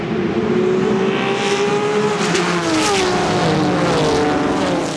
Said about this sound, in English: here's the start of the Porsche 914 race.